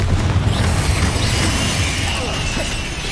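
A fiery Confringo blasting spell explodes in the Hogwarts Legacy video game, a loud burst of rumbling, crackling noise that fades gradually, with no talk over it.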